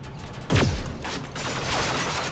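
A gunshot in the video game Terminator Resistance, one loud close blast with a falling sweep, followed by mechanical rattling and a lingering hum, with no talking.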